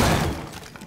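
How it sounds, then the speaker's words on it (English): A wall blown open in Rainbow Six Siege on the Hereford Base map: one loud, close burst of breaking and shattering debris at the start, which decays quickly into a rumbling tail. "I just blew the wall next to me"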